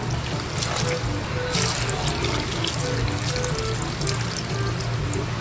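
Water pours steadily into a cooking pot with ginger, a continuous splashing rush with a faint hum underneath and no talking.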